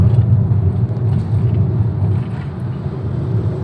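A 2014 Toyota Etios Valco car in fifth gear overtaking between two trucks, with a steady low engine drone and road rumble heard from inside the cabin, loud and continuous throughout.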